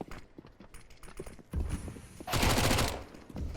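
Counter-Strike match gunfire from MAC-10s on Vertigo, scattered footsteps and taps followed by dense bursts of rapid automatic fire that swell to a loud sustained volley, game sounds only.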